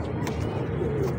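Pigeons coo softly in a low, rolling murmur, brief and close, with a faint breathy background.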